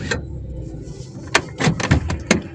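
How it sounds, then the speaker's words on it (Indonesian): A car door opens with a few clicks and latch thumps, then a couple of sharp mechanical clunks, recorded close and fairly loud in a parked car at the Geladak Perak bridge in Lumajang. "Kita buka pintu."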